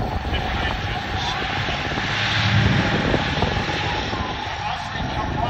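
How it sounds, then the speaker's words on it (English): A Sherman tank with twin Detroit diesel engines rumbles past at a tank show, a steady loud engine drone with a broad roar and a mid-clip swell, spectators' voices faintly mixed in. "The engine you can hear. There we are, we've got twin Detroit diesels in the back there."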